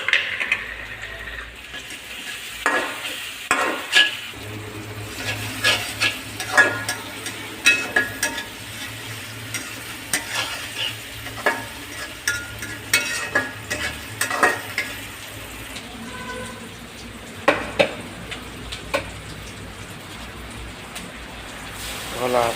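Turmeric powder and panch phoron fry in a pan while being stirred, probably during noodle cooking, with a steady sizzle and repeated scraping, clattering stirs; a voice talks over parts of it.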